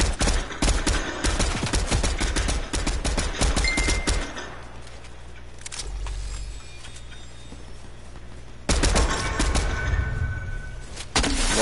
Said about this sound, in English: someone else is shooting at him now